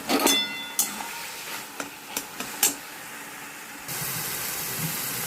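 Shrimp tossed into a pan of taro leaves cooking with turmeric, giving a loud hissing steam burst at first, then a few sharp clatters and knocks, and finally a steady sizzling hiss near the end.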